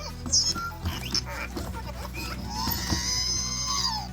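A collectible toy figure lets out a shrill, squealing scream when its head is twisted, a rising and falling electronic shriek lasting several seconds, loud and close, with faint handling noises beneath.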